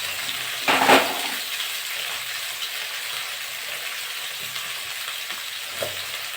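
Pointed gourd pieces fry in hot oil in a home kitchen pan, giving a steady, moderate sizzle with a louder burst of spattering near the start and a brief clatter later.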